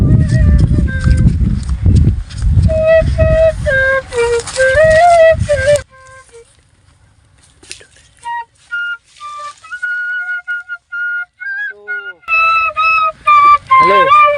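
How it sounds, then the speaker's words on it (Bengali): A bamboo bansuri flute plays a wavering melody of clear sustained notes, first over a loud rumbling, bustling background, then more exposed with brief pauses between phrases. "বাঁশি বাজাইতেছে, আপনারা দেখতেই পাচ্ছেন"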